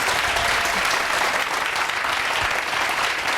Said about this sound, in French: je vais entendre le public applaudir plus fort que ça